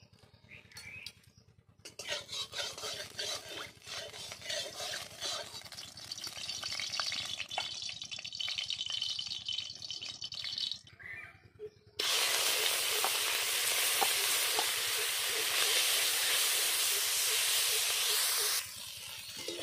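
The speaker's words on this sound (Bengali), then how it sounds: "এবার আমি চিংড়ি মাছগুলো ভেজে নেব।" Prawns fry in hot oil in a pan with a hissing, spattering sizzle that swells suddenly into a loud, dense roar midway and then holds steady before stopping.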